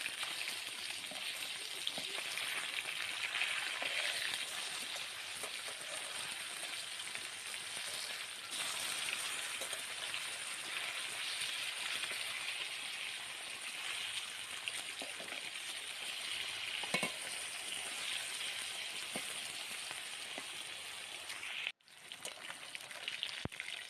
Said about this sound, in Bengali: ফার্স্টে আমি মাছটাকে গরম তেলে লাল লাল করে ভেজে নেব